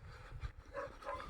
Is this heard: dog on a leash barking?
yes